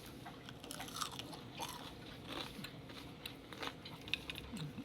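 Someone bites into crunchy fried pork schnitzel seasoned with salt, pepper and garlic powder, making repeated close crisp crunches and chewing sounds with no talk.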